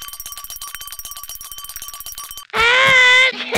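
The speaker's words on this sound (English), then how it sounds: "Just ring this bell if you need us, and we'll come running." A cartoon bell in a Smiling Critters animation rings in a rapid series of bright metallic dings for about two and a half seconds, then a loud, sustained tonal sound abruptly takes over.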